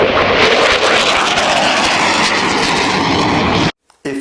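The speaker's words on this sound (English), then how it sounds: "Then there are noisy jet aircraft." Noisy jet aircraft flying overhead, a loud, steady broadband roar filling the whole clip before cutting off abruptly near the end.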